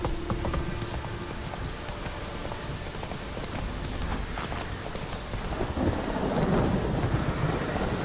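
Roach the horse gallops through heavy rain in The Witcher 3, steady hoofbeats carried under a constant downpour and rumbling thunder that swell louder toward the end.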